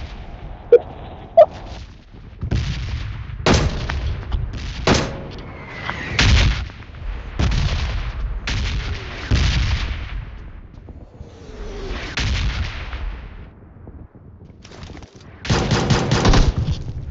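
PUBG Mobile gunfire, heavy, close bursts of shots and rapid automatic fire repeating in clusters over a steady background rumble, with a few sharp single cracks early on and no speech.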